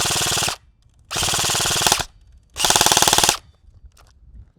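Airsoft gun firing at a paper target in three sustained full-auto bursts, each roughly a second long, loud and close with short pauses between, followed by a faint rattle.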